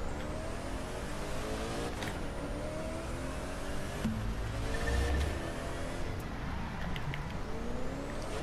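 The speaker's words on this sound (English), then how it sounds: "Let's see if I can double clutch in this game." A McLaren P1 in the racing game The Crew 2, engine revving up and down as the driver double clutches through shifts, a steady loud drone with rising and falling pitch sweeps and no voices.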